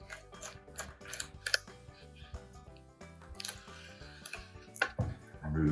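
A knife trims the rib tips off St. Louis style pork ribs, cutting straight across with short crisp cuts and soft squishy taps on a board, close by, while someone talks throughout.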